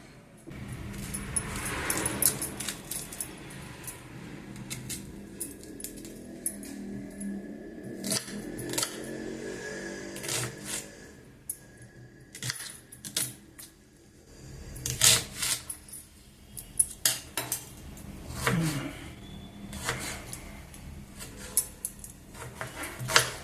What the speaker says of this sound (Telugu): సన్నగా కట్ చేసుకోవాలన్నమాట